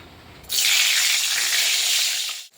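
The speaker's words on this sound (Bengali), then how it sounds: "এই দেখো বসিয়ে দিয়েছি পটল ভাজাগুলো" Slices of pointed gourd (potol) hitting hot oil in a pan, bursting into a loud, even sizzle that holds for about two seconds and then drops off.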